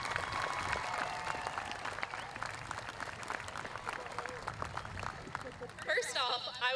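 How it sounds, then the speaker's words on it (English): Audience applause fills a high school graduation ceremony, a dense steady wash of clapping from a large crowd with voices mixed in and a brief burst of cheering near the end. "please join me in a round of applause for our amazing class"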